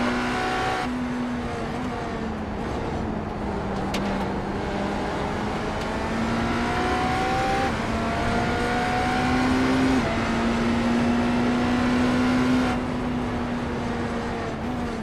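A turbocharged BMW racing car engine in the iRacing simulator at Watkins Glen holds a steady, loud drone, rising and falling through gear changes, with faint tyre noise and no talking.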